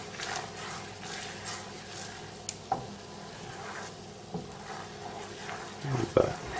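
A sauce cooks in a pan while a spatula is drawn through it, giving a soft continuous sizzle with gentle scraping and a few light clinks and taps. A voice speaks quietly over it.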